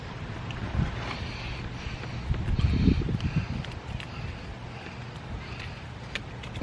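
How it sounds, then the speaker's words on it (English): Strong gusts buffet a microphone outdoors on a homestead, a low rumbling blast that swells and fades with light handling knocks, no voices. "Man, it is windy as dickens out right now."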